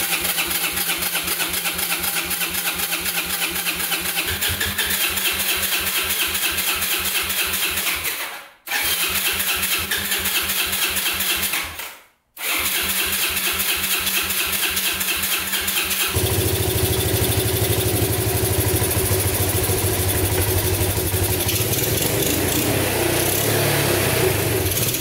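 A Yamaha Breeze ATV engine cranks in long rhythmic bursts, broken by two short pauses, then catches and settles into a steady, chugging idle close by.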